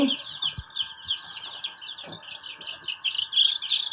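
Rhode Island Red and Light Sussex chicks peeping and clucking continuously, a dense flock of high chirps close by, with a few faint background knocks and no clear talk.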